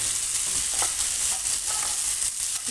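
Soaked sago pearls are stirred in a pan over low heat, giving a steady, close frying sizzle broken by soft scraping stir strokes. No one speaks over it.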